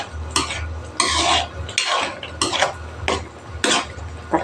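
Ground pork menudo stirred in a pot, a utensil scraping and clanking in about six rhythmic strokes, close and fairly loud over a low simmer.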